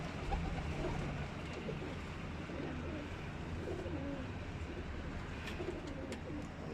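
A pigeon coos in soft, low, repeated notes against a murky outdoor background hum, faint and fairly close, with a few light chirps near the end.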